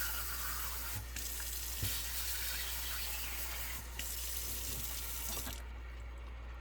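A kitchen tap runs in a steady, full stream into a sink while chanterelle mushrooms are washed beneath it, with a few faint knocks and clunks as they are handled.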